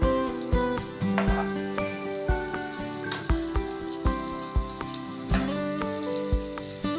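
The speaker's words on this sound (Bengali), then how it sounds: "দেখুন এরকম আমাদের ঘি সুন্দরভাবে মেল্ট হচ্ছে।" Homemade cow ghee melts and sizzles in a pan, a steady loud frying hiss with regular soft stirring knocks throughout.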